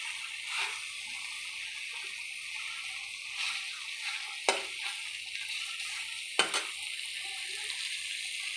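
Fried rohu fish pieces go into a cooked-down masala and are stirred in a pan, a soft continuous sizzle broken by a few scraping stirs and two sharp clicks of a utensil.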